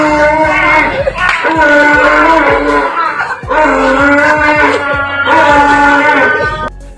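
A man mimics a donkey's bray with his voice while a real donkey brays back in loud, repeated wheezing cycles, the two calls overlapping in a rising and falling rhythm, with faint crowd noise behind.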